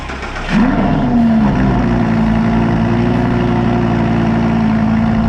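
A twin-turbo V8 supercar with an aftermarket exhaust fires up: a brief crank, then the engine catches with a quick rev flare and settles into a loud, close, steady idle rumble.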